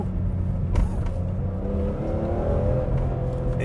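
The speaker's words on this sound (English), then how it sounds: "it's such a quick revving NA motor" A BMW E46 M3's naturally aspirated engine revs briefly, a rising mechanical whir and growl close by, steady and loud throughout the short burst with no talking.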